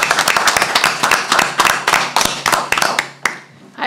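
An audience at a local board meeting applauds with dense, steady clapping that carries on for several seconds before thinning out toward the end.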